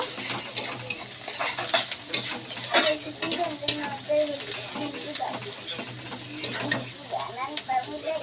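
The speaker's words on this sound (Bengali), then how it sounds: "পেঁয়াজটা আর একটু ভাজা ভাজা হয়ে গেলে দিয়ে দেব" Onions frying in a pan, sizzling beneath frequent scraping stirs and clinks of a spatula, with a person talking over it.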